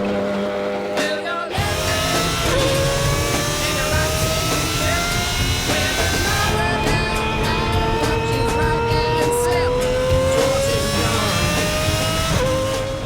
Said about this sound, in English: Raucous V12 filling the cabin.